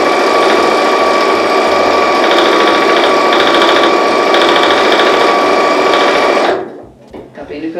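A sewing machine runs steadily, stitching fabric for an organizer basket with a loud, continuous whirring hum before stopping abruptly near the end, followed by faint handling sounds.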